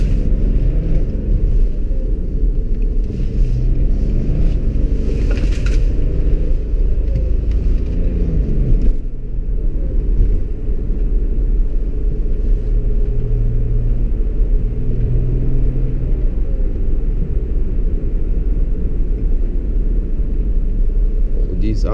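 Tuned 2005 BMW 535d diesel sedan with about 370 hp, pulling hard in second gear through city streets: a steady, loud low-frequency engine rumble with road and wind noise, heard from inside the cabin.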